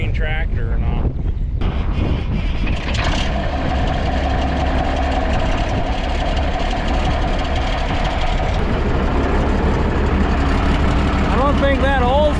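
A red Case IH tractor engine runs at a steady low idle, a constant deep rumble close to the microphone with wind buffeting and occasional voices over it.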